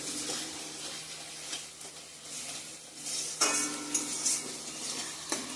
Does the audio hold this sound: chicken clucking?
no